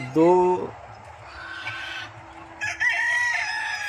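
A rooster crows loudly up close, then hens cluck and call in a busy riverside poultry farm with about 2000 birds, including Sonali, Kadaknath and Black Australorp breeds, with another crow rising near the end.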